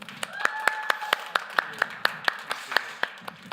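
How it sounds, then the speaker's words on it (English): Applause for a speaker at a game development boot camp, a small group clapping with loud individual claps coming in an even, rhythmic beat, over soft room murmur. "One more warm applause for Juha."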